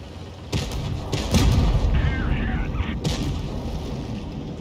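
A tank cannon fires in World of Tanks Blitz, landing the killing shot on an ISU: several deep booming thumps spread over a few seconds, loud and close, amid constant battle rumble.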